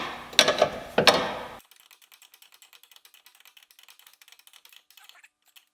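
A wrench working a top-lock nut on a car's sway bar link, a rapid run of small dry ratcheting clicks following two louder clanks at the start.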